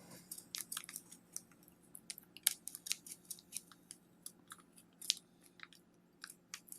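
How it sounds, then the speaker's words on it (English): An X-Acto knife cuts slowly through the foil lid of a Nespresso pod, giving close, quiet crinkly snips and scratchy crackles in irregular short bursts. "You're going to carefully cut the foil off the top. I'm using an X-Acto knife"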